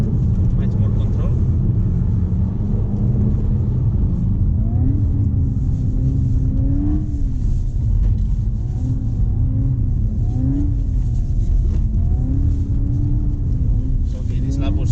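A 300 hp SEAT Leon ST Cupra 4Drive slides on a snowy track, its engine droning steadily from inside the cabin and rising and falling as the throttle alone steers the drift, with people talking over it.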